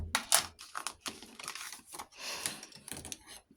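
Paper being cut with scissors, heard as a quiet series of short snips and crinkles at close range.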